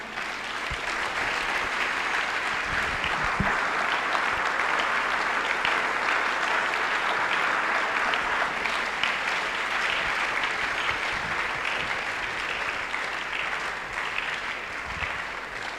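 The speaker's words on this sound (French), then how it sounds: "Et tu acclames. And you clap." Sustained applause from a large audience at an evangelism and deliverance crusade in Douala, steady and dense throughout with a faint crowd murmur beneath.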